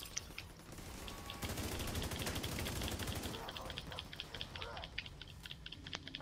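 Gunfire in the video game The Division comes as a dense, rapid volley of shots that fades into scattered clicks and single pops.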